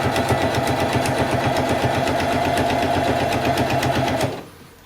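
A sewing machine drives fast, steady stitches through underquilt fabric, a loud, even, rapid mechanical clatter that runs continuously for about four seconds and then stops abruptly.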